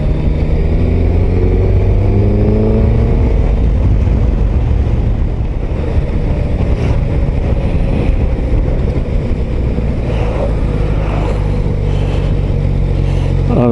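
A Suzuki GSX S 1000 GT motorcycle pulls from low revs in sixth gear, a steady low engine drone under heavy wind rush, rising gradually in pitch as it picks up.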